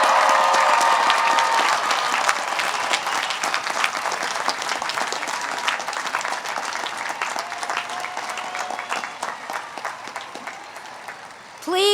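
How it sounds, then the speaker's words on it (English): A crowd at a university commencement ceremony applauds its graduates in a sustained, dense round of clapping that fills the hall and slowly thins toward the end, with a voice coming in on a microphone at the close. "Let's give all of our graduates one last round of applause."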